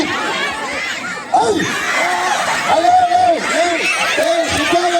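Football supporters at a friendly match make a steady crowd din of chatter, shouts and cheering, with a commentator's voice talking over the noise throughout.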